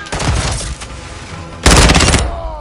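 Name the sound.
gunfire in Call of Duty MW2 video game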